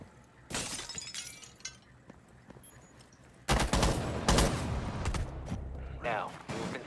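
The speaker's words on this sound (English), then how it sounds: "someone's shooting" Gunfire in Rainbow Six Siege comes in sharp bursts and rapid volleys with some glassy breaking, loudest in the second half, while a person talks over the action.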